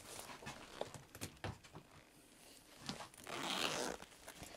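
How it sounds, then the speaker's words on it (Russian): A zipper on a beaded embroidered bag is pulled open in a few short rasping bursts, then one longer steady zip near the end, close and fairly quiet with no talk. "То есть мы с вами открываем замочек."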